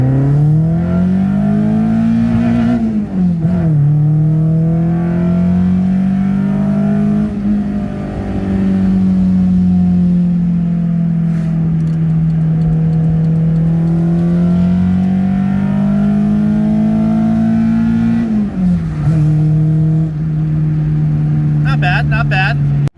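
A Honda CRX track car engine drones loud and close through a first-gear pull, its pitch climbing and dipping with a couple of shifts in load, sustained throughout with little pause.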